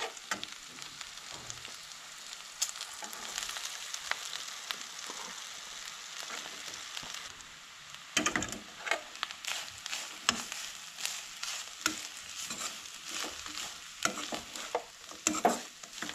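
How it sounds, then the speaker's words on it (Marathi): Onion and chillies fry in a pan for Goan chana masala. A steady, moderate sizzle runs under repeated scraping stirs, which grow busier and more rhythmic in the second half. "तो कांदो आनी मिरसांगो आतां भाजून घेवंक जाय"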